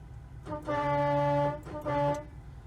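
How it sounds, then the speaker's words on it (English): A loud electric air horn (Hornblasters Musket) on a truck blasts twice, a long steady tone followed by a shorter one, heard close from inside the truck. "That's the train horn or the air horn on my truck."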